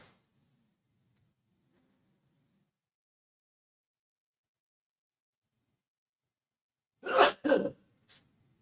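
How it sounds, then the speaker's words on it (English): After a long near-silent stretch, a sudden sharp double burst like a sneeze, then a brief faint sniff, close and loud. "I'm going to sneeze"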